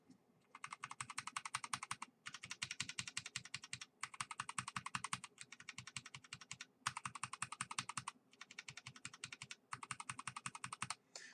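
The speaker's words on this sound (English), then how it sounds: "the sound of them is they really just accentuate the ping of the blue switches" Rapid bursts of typing on a Noppoo Choc Mini RGB keyboard with blue switches, crisp clicky keystrokes with a pingy ring, coming in steady runs separated by short pauses, close and alone.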